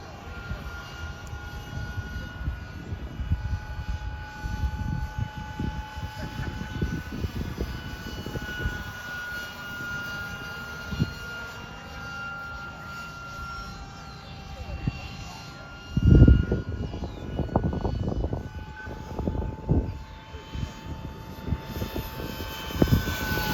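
A radio-controlled model jet with an electric ducted impeller whines steadily as it flies, a sustained high tone under bursts of wind buffeting and people talking nearby.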